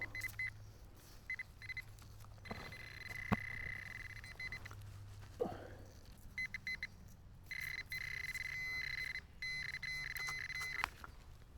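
Faint, repeated electronic tones from a metal detector, steady high beeps that switch on and off, with a few brief knocks underneath.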